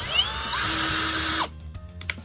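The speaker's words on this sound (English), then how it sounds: "we got our hole drilled for our knob" Power drill boring a hole for a knob, a close high whine that holds steady then winds down abruptly, followed by a few faint clicks and handling knocks.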